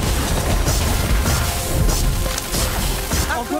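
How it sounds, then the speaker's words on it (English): The Incendio charm from the Harry Potter: Magic Awakened video game lands with loud crashing impacts, whooshing bursts and booms that pile up continuously over a full, dense mix of game effects. "I have no choice but to use the Incendio charm"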